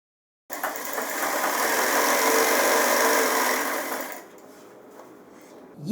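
A sewing machine stitches a pajama leg seam in one steady, even run of about four seconds and then cuts off, leaving a low hum behind.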